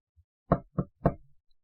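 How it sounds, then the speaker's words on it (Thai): Three sharp knocks on a door sound close and dry, evenly spaced in a quick rhythm against near silence. "เธอเคาะประตู"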